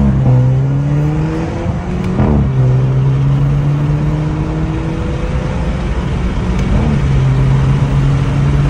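A Volkswagen Jetta GLI fitted with a new aero kit accelerates hard close up, its engine note rising steadily and drawing out in long pulls, with a brief dip near two seconds, loud throughout with no talking.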